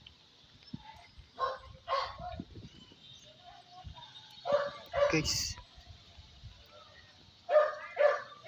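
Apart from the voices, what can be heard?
dog barking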